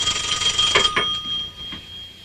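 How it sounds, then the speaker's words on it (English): A telephone rings in a room during a family gathering, a bright electronic tone with steady pulsing that carries on for a couple of seconds and sounds fairly close. "Somebody answer that phone?"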